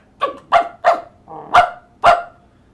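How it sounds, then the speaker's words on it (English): A dog barks five times in quick succession, loud and close, with a softer, muffled bark in the middle of the sequence and short silent gaps between each. "Orville barked at the boys"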